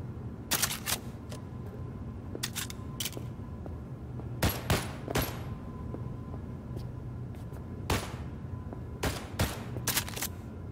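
Sharp gunshots at a firing range in Cyberpunk 2077 ring out in irregular single cracks and quick pairs, moderately loud over a low steady ambient hum with no talk.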